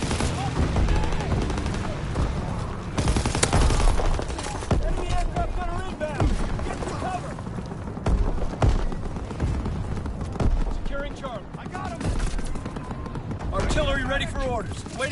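Shotgun fire and other gunshots crack in rapid, overlapping bursts in a chaotic multiplayer shooter battle, dense and close throughout. Voices talk over the gunfire and in-game announcer callouts.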